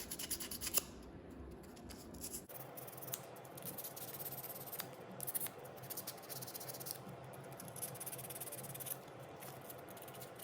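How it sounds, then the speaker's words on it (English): Hand sanding scuffs against an interior door handle of a Mercedes-Benz C-Class W204, faint close rubbing strokes repeating in an uneven back-and-forth rhythm, with no talking. "I'm gonna do a little bit more of the sanding"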